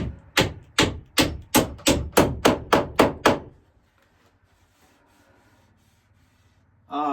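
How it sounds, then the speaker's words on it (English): Hammer driving a galvanized spiral nail into a 150-plus-year-old reclaimed wood harvest table: about ten sharp, evenly spaced blows in quick succession, then quiet. "I want to put a nail in here too, and screws."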